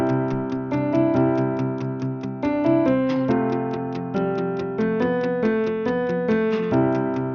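Melodic line built on a muted electric guitar pattern, sampled from an Electric Guitar Soundburst library, with regular plucked ticking notes over sustained chords and a guitar slide toward the end; steady and loud, no talking.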